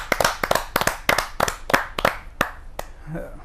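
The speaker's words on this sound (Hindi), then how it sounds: "आप सबकी मधुर तालियों की आवाज से" Audience members at a Hindi poetry gathering clap for a poet, a quick run of sharp, distinct claps from a small group that slows and thins out, with a voice starting to speak as the clapping ends.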